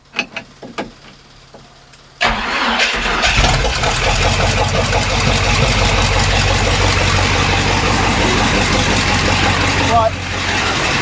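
An old Chevy squarebody truck, unmoved for decades, cranks and fires up after a few light knocks, then settles into a steady loud idle that runs on close by, with someone talking briefly.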